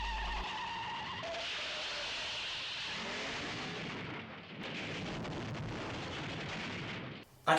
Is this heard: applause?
no